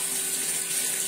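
Water runs and trickles steadily while a baby is bathed, with hands splashing it gently over the face, a continuous close wash with no voices.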